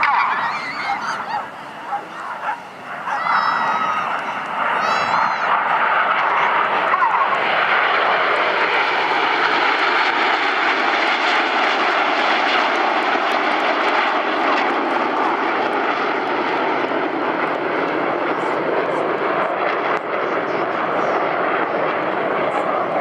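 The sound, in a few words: Red Arrows jet aircraft performing formation rolls at an airshow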